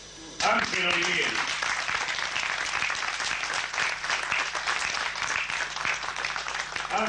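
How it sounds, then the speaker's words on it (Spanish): Loud, sustained clapping from a crowd at a tango collectors' tribute event begins abruptly after a brief spoken word and fills the rest of the clip with a dense, steady roar. "El aplauso, déjenlo todo juntito para el final"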